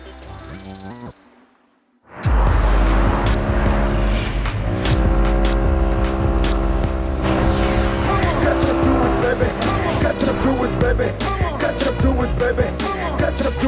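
In a Hindi film scene, a car drives hard and skids with loud squealing tires. The sound roars in after a brief burst of music and keeps grinding and screeching throughout.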